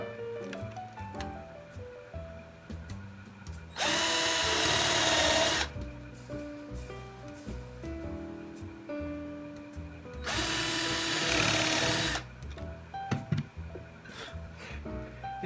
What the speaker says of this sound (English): to drill a couple countersunk holes for the mounting screws that will go into the wall